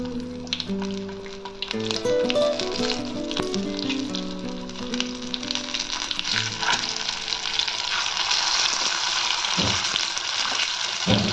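Eggplants frying in hot oil with turmeric for a Telugu oil-eggplant curry, a loud, steady sizzle with clattering stirring and scraping throughout, no talk.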